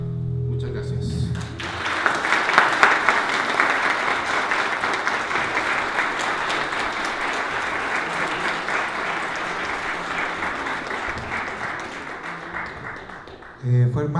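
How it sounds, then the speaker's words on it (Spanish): Sustained audience applause fills a book launch event, building quickly and holding steady for over ten seconds before tapering; a voice briefly speaks at the start and end. "Más fuerte el aplauso, por favor"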